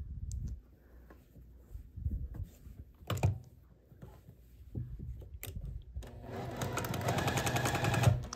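A sewing machine stitches a quilt block in short, quiet bursts of clicking, then settles into a louder, continuous whir for the final couple of seconds; nobody speaks.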